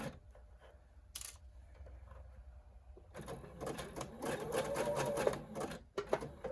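Sewing machine stitching a flat wire into a face mask: quiet handling and a brief click, then a fast whirring run of rapid stitching from about three seconds on, close and loud, stopping briefly near the end.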